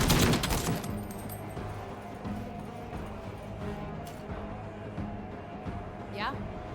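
Aerial attack gunfire in the Menace video game: a dense burst of shots opens the clip, then a steady crackling battle din continues, with a short rising whistle near the end.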